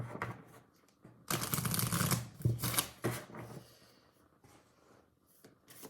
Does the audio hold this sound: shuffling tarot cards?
yes